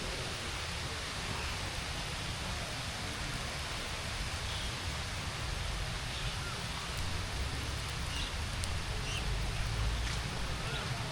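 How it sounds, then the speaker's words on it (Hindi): Steady, dense rain hisses continuously with no pauses, a broad even wash of sound that stays constant throughout, heard from under an old tree. "बारिश काफ़ी तेज़ हो गई है"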